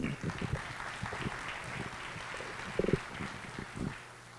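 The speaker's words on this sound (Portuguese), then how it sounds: "Vamos aplaudir, gente." Audience applause at a forum as a battery researcher from CPqD is invited to speak, a fairly faint, diffuse clapping with a few louder knocks or footsteps in the room.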